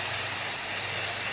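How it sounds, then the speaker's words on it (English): Hairspray from an aerosol can misted over homemade Christmas tealights, a steady continuous hiss lasting the whole moment, close and fairly loud with no breaks. "get hairspray and just spray them."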